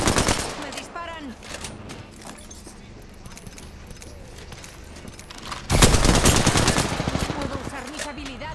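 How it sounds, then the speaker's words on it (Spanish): Gunfire in the Apex Legends battle royale shooter during a Season 5 match with Loba: dense, rapid bursts of shots run under a voice speaking, then a louder, sustained barrage erupts near the end. "¡Me disparan!"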